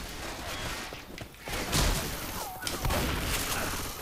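Rapid gunfire in Left 4 Dead 2, a dense rattle of shots with heavier thumping bursts, continuous across the short span at moderate loudness.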